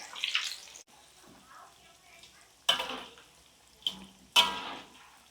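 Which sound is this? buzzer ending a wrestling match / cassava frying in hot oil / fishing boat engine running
cassava frying in hot oil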